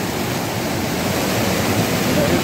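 Waterfall on the Shrikhand Mahadev trek roars as steady, dense broadband rushing water, loud and close, with no break across the short stretch.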